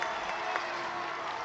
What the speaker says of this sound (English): This crowd is on its feet and rocking